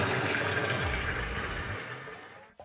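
Reverse-osmosis water runs steadily into a container of about 30 gallons for reef tank maintenance, a close, continuous splashing rush that thins out near the end.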